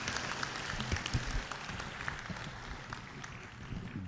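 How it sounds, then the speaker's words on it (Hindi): Steady crowd applause at a political rally in Gorakhpur, with dense, continuous clapping throughout, fairly loud and without a break, no clear voices standing out. "जोरदार तालियों के साथ स्वागत।"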